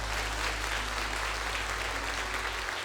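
An audience applauds at a Catholic worship night led by Frei Gilson, a steady, dense wash of clapping that continues evenly throughout and fades slightly at the end.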